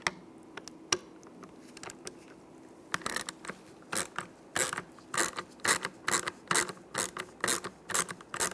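A T20 socket ratchet clicks in quick bursts while backing out screws on a 2007-2013 Chevrolet Silverado steering wheel, with close, crisp pawl ticks in irregular runs and short pauses in a quiet room.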